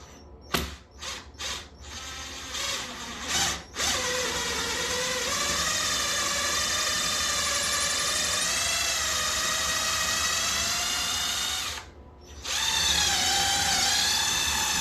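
A power drill whirs in a few short bursts, then runs in one long steady whine into a drywall wall and wooden stud, stops briefly, and starts again.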